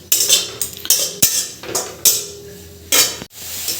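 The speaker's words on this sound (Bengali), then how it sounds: "এবার একটু হাই ফ্লেম করে দিয়েছি, দিয়ে একটু ভালো করে চালাচ্ছি।" Carrots for carrot halwa stirred in a pan over high flame, a utensil scraping and clinking against the metal in repeated close strokes with a light sizzle underneath, no talking.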